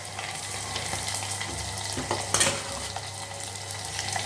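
Chopped onion frying in hot oil for a traditional puli kuzhambu, with a steady low sizzle and soft stirring scrapes running throughout, plus one brief louder clatter midway.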